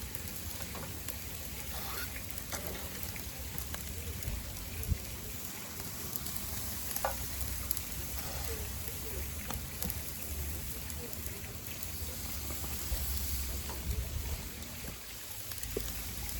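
A marinated flank steak sizzles on a grill while it is basted with more marinade, a faint, steady crackling hiss with scattered pops that continues without a break.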